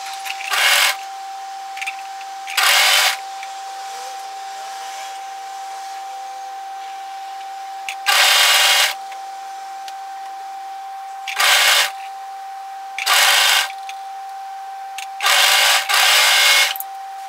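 A sewing machine stitching a dress in bursts, loud whirring runs of about a second each starting and stopping six times, with quiet pauses between.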